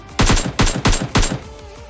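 Three bursts of AKM assault rifle fire ring out in a mobile battle royale game, each a rapid cluster of two or three loud, sharp shots, followed by a brief fading tail.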